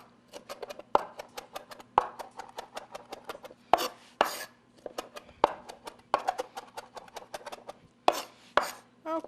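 A knife chops fresh parsley on a cutting board in a home kitchen, with quick clusters of crisp, close taps broken by short pauses, clear and alone.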